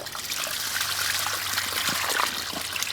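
Water trickles and splashes steadily from a fish pond outlet on a farm in Nyeri, Kenya, a close, continuous bubbling flow with no talk over it.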